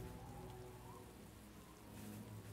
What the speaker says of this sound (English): Oh, Healing Rain has been added.